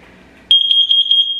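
A carbon monoxide detector sounds its alarm during a test: a loud, piercing high beep pulses steadily and close after a short stretch of quiet room noise.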